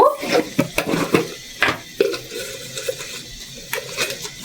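Dried red chillies fry in a pan with a soft sizzle, broken by several sharp clinks and scrapes of a spoon stirring against the metal.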